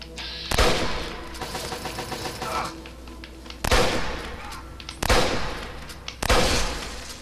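Fallout 3 gunfire: bursts of loud rapid shots repeat several times, separated by metallic reloading clicks and rattles, with a voice talking in between.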